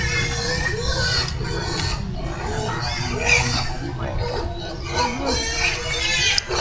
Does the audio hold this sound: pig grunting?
yes